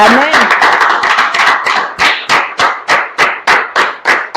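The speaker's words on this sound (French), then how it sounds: "Applaudissez la parole de Dieu." A church congregation claps in rhythm during a worship service, steady loud beats settling into evenly spaced handclaps, with a voice talking over the opening.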